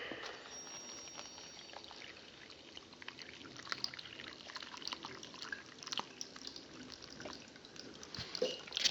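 Liquid slowly draining through a homemade vacuum filter as particles settle at the bottom, a quiet steady trickle with faint drips throughout, no talking.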